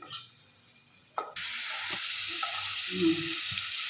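Katla fish pieces dropped into hot masala and oil in a pan, a bright steady sizzle rising suddenly after a few quiet taps and clinks, with occasional stirring knocks underneath.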